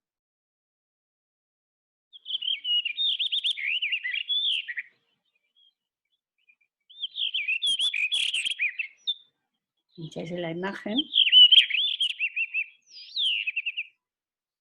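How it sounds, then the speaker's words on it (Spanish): Several bursts of high, rapid bird chirping and twittering from birds on roof tiles come one after another, with a brief spoken phrase mixed in near the end. "ahora se oyen todos los pájaros"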